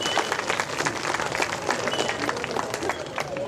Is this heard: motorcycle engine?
no